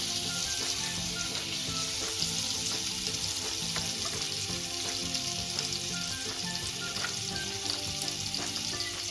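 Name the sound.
butter and oil sizzling in a hot pan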